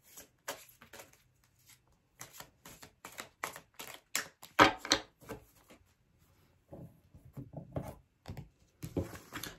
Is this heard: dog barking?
no